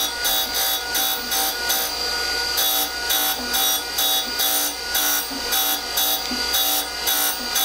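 A surface grinder takes heavy passes across a steel V-block, with a steady machine hum under a rhythmic rasping scrape that repeats about twice a second, loud and close.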